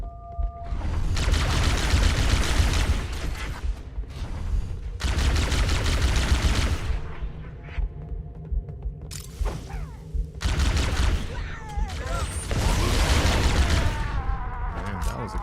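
Gunfire and a grenade explosion in the video game Halo: CE, loud bursts of rapid shots and heavy booms coming in waves across the clip, separated by quieter stretches of mechanical hum.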